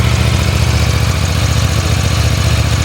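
A new 2026 KTM 990 RCR parallel-twin motorcycle engine idles just after its first start, a loud, steady low rumble with an even pulsing throb, close by and with no voices.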